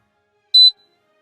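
A smoke alarm with a low battery gives a single short, high-pitched chirp, clear and isolated against silence.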